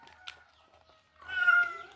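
A young cat lets out one clear, drawn-out meow of moderate loudness and close by, following a stretch of near silence with faint rustles.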